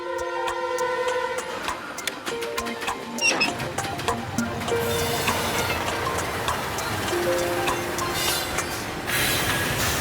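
A train rolls in with high, sustained metallic wheel squeals and rhythmic clatter, steady and fairly close, with no talking.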